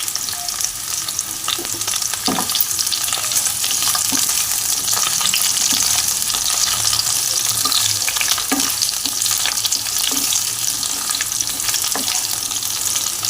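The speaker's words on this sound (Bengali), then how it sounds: "চলুন ভালো করে আমি পটলটা ভেজে নিই।" Chopped pointed gourd (potol) fries in hot oil in a pan, giving a constant loud sizzle broken by occasional scraping stirs, with no talking.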